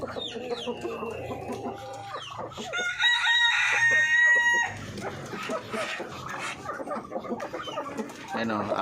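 A large breeding-season rooster crows once, loudly and close, amid clucking hens in a poultry yard, while someone talks before and after the call.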